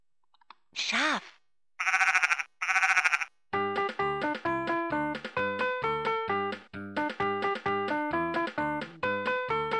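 A Vtech Singspaß toy microphone from 2009 plays a sheep bleat, two loud electronic bleats in quick succession, followed by a bouncy synthesized melody of plinking notes.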